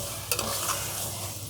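Masala with Kashmiri chilli powder sizzling and frying in a pan for liver curry, with a constant hiss broken by a few sharp scrapes of a spoon stirring it, close and fairly loud.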